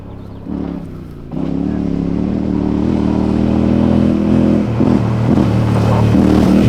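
A motorcycle on an expedition through Zimbabwe's Eastern Highlands roars loudly and steadily as it accelerates toward a ramp jump, engine note rising and holding close by, with no talk.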